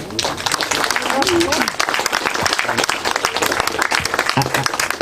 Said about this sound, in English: I'd like you to give a round of applause now for all our speakers and for Peggy.